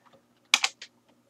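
Short burst of computer keyboard typing, a few quick clustered keystrokes close up in a quiet room, no talking.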